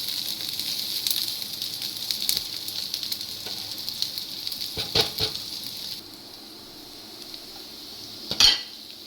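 A spoon scrapes sautéed onion from a pan into a bowl, bright metallic clinks and scrapes over a faint steady sizzle, with a sharp clatter near the end.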